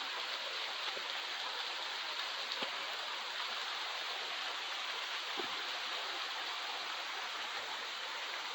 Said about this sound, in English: Not really a view here, just the waterfall.